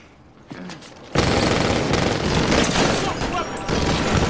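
Heavy gunfire from a crime film about a robbery, with a gang member surrounded and shot: a sudden loud fusillade of rapid overlapping shots and booms that bursts in after quiet and keeps up dense and close to the end.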